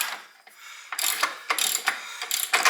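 Wrench work on the front end of a 1968 Pontiac GTO A-body during teardown, a run of close, loud ratcheting bursts repeating in quick clusters, with no talk.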